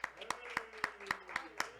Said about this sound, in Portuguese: a salva de palmas para minha produção